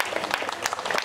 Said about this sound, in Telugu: ఒక్కసారి క్లాప్ చేయండి